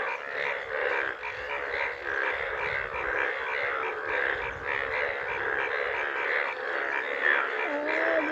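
Frogs croak in a dense, continuous chorus of pulsing, throaty calls, steady and fairly close throughout with no pauses and no voices over it.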